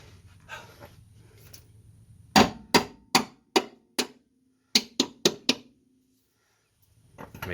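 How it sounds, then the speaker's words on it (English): Sharp metallic hammer strikes on a Honda Civic coilover suspension part, two bursts of four evenly spaced clangs separated by a short pause, close and loud against a quiet garage with faint rumbling at the start and end. "We might have to tap it with a hammer."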